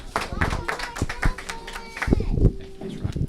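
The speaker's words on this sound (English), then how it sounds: "please give her a round of applause." Scattered clapping from a small audience at a county officials' meet-and-greet, irregular claps close by, with voices talking over them.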